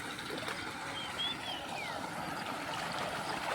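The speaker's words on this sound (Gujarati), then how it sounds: "જો પાણી ચાલુ છે।" Water rushes steadily from an irrigation pipe into a groundnut field, a continuous even wash of flow with faint outdoor ambience and a bird call or two in the background.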